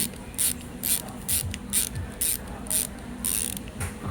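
Film winding crank on a Rolleiflex SL66 medium-format camera being turned, giving a steady run of about nine evenly spaced ratcheting clicks over a faint mechanical whir, close and alone.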